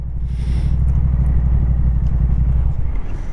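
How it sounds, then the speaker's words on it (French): Heavy wind buffeting the microphone, a loud, continuous low rumble that roars steadily throughout. "il y a du vent, j'espère que vous m'entendez bien"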